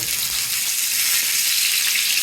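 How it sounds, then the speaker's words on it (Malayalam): Chicken frying in hot oil in a pan, a dense, steady sizzling hiss that stays loud and even throughout, close up with no other sounds. "ചൂടായ എണ്ണയിലേക്ക് ഞാൻ ജസ്റ്റ് ഒന്ന് ചിക്കന് ഒന്ന് പൊരിച്ചെടുക്കുന്നതാണ്"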